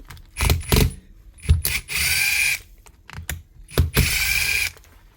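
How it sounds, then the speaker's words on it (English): An old Hitachi cordless drill being repaired runs in several short bursts, whirring and ratcheting as it drives screws, with pauses between each run. "I'm just going to use a drill for speed."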